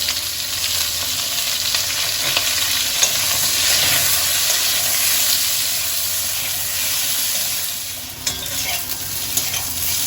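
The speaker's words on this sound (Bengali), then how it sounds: "ওই তেলের মধ্যেই আমি কেটে রাখা পটলগুলো একটু হালকা লাল লাল করে ভেজে নেব" Sliced pointed gourd (potol) fries in oil with a lightly salted, steady hissing sizzle, and stirring scrapes come and go over a roughly ten-second stretch, close by with no voices.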